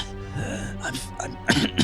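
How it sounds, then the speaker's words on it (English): A person clears their throat several times in short rough bursts, close by, with breathy pauses between. "He's like, kind of clearing his throat."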